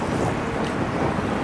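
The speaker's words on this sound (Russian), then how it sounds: "Какой ветер тут был." Wind blowing hard near a bridge over Lenin Avenue in Barnaul, a loud steady roar of microphone buffeting that lasts throughout, with no voices.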